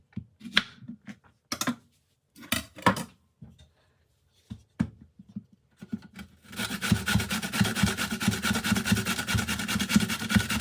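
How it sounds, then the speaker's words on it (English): Small courgette rubbed against a grater in fast, continuous rasping strokes, loud and close, after a few scattered soft knocks and handling sounds. "Cut the ends off a small courgette and then grate."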